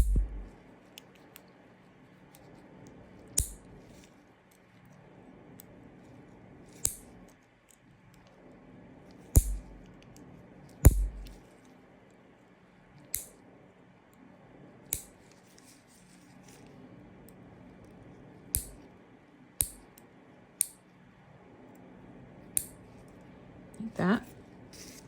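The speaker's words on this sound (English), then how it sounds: "we're gonna cut these nails down" Acrylic nails are clipped down, with sharp, crisp snips at irregular intervals of a few seconds. The snips are close but fairly quiet over a low, steady background hum.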